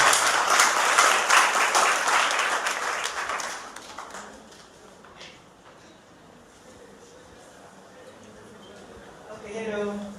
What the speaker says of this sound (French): Je vous prie d'applaudir pour le monsieur.